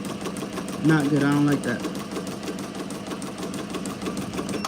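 A Ricoma MT-1501 embroidery machine runs with a steady, rapid mechanical stitching hum throughout, while a person speaks briefly over it near the start.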